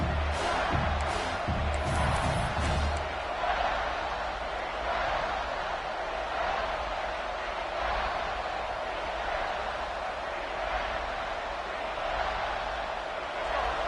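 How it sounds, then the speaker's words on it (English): A stadium crowd in the College Football 26 video game roars steadily during a big third-down play in the red zone, with a dense, sustained wash of cheering and some louder bursts near the start. "this crowd is getting behind this defense"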